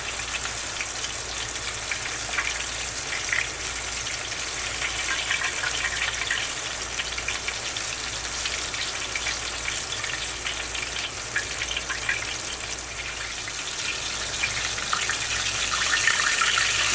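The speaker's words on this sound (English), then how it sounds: "now you can see it's sizzling again" Steady, close sizzling and crackling of bone-in chicken frying in hot oil, continuous and fairly loud with no talking.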